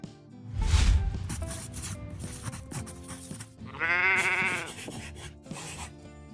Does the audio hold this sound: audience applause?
no